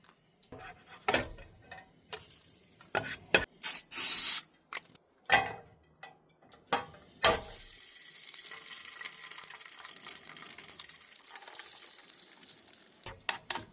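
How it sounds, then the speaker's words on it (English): An egg frying in a pan at a campsite beside a teardrop trailer. A few sharp clanks and taps open, then a steady, soft hissing sizzle runs on, close by, with no one talking. "So we're just going to fry up 1 egg."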